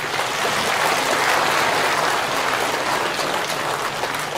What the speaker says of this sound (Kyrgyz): Өзбектерге кол чаап койбойлубу?